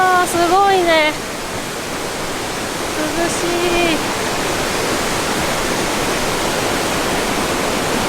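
A river pours over a multi-tiered waterfall at a scenic campground in Nagano in late summer, a steady loud broadband rush throughout, with a person speaking briefly over it near the start.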